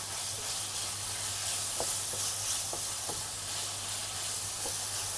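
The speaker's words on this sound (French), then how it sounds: "Donc là, vous remuez, remuez, remuez, remuez." Shrimp stirred and sizzling in a frying pan with sauce, a steady close hiss of frying with a few soft scraping stirs scattered through, no talking.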